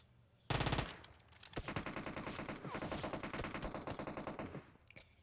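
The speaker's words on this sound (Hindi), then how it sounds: "इतने में मेरे को बैक साइड से गोलियां मारना स्टार्ट हो जाता है।" In PUBG Mobile, a sharp burst of gunfire from behind, then sustained rapid automatic fire rattling for several seconds before stopping, loud and close with no speech.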